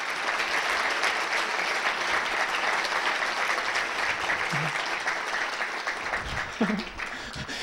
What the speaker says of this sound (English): Give Denise a big round of applause.